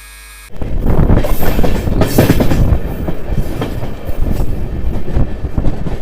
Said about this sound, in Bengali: আমাদের ট্রেন ভালো স্পিডে ক্রস করছে গদাধরপুর রেলওয়ে স্টেশন